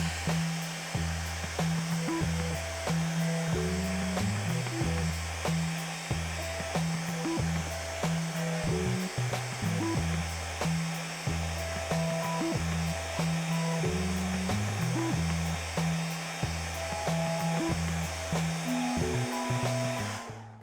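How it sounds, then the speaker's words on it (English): A hair dryer blows steadily on freshly painted fan magnets, a continuous loud whooshing rush lasting about twenty seconds with a rhythmic low hum pulsing underneath. "Now we're going to take a hair dryer and we're going to dry it."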